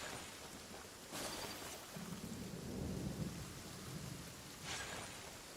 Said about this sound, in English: I can't imagine how you two warriors managed to make it through the thunderstorm.